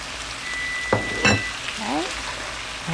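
Shrimp, vegetables and tomatoes sizzle steadily in a pan, a soft continuous frying hiss with a few brief clatters of stirring or tossing partway through; no voices.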